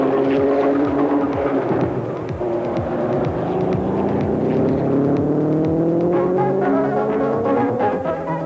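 Race cars roar away at the Le Mans start, a loud, continuous engine drone with rising, overlapping pitches as the cars accelerate together, with no talk over it.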